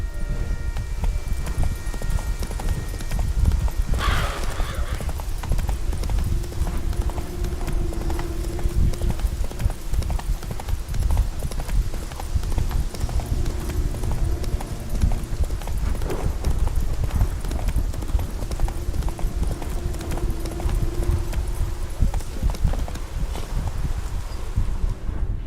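A horse gallops in The Witcher video game. Hoofbeats clip-clop in a fast, steady rhythm throughout, with wind and rustling underneath.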